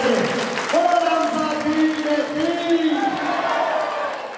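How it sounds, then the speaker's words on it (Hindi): A large crowd at a school statue-unveiling ceremony in Laxmangarh claps and cheers, a broad wash of applause carrying loudly throughout with voices calling out above it. "उपस्थित जन सैलाब ने भी तालियों की गड़गड़ाहट और जयकारों से समारोह को नई ऊंचाइयां दी।"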